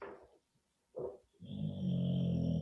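A dog snores nearby, two short snuffling breaths followed by a long, rumbling nasal inhale with a faint whistle.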